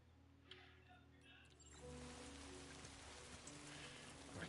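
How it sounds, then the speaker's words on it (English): Steady rain in Death Stranding 2 patters on a surface, growing denser after a couple of seconds, with faint higher tones at the start. "Oh my God, the rain."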